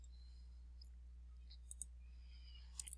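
A computer mouse clicks in a design program: a few faint, sharp clicks, one near the middle and a quick cluster near the end, over a quiet low hum.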